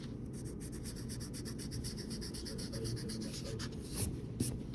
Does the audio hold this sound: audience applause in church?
no